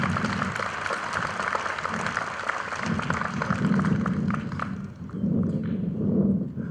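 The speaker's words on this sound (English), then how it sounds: "to the class of 2022, we thank you. Give yourself another round of applause." Graduating class of 2022 applauding at a California law school commencement, a broad wash of clapping from a large crowd that swells and fades over several seconds, with no clear voices over it.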